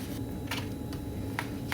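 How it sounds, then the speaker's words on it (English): Faint, irregular clicking taps of dog claws on a hard floor, scattered and quiet against a steady low background hum. "You can hear the dogs tippy-tapping around."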